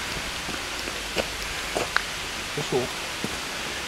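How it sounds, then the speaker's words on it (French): Rain falling on leaves high in a forest canopy, a steady soft hiss with scattered drips and light knocks, while people talk quietly nearby. "On entend bien la pluie."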